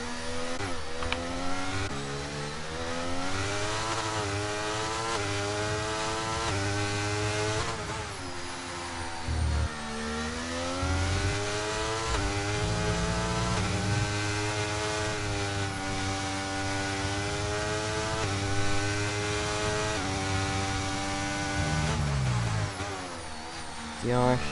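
Racing car engines in a racing video game at a Spain round, several motors revving and shifting through gears in rising and falling whines, loud and continuous, with a commentator talking over them throughout.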